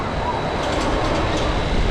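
The Mumbo Jumbo S&S roller coaster train at Flamingo Land rushes past, a sustained rumbling roar with faint rattling, steady and fairly close for about two seconds.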